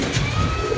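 Pigeons coo close by in a short, soft burst of low, throaty calls over a light background hum.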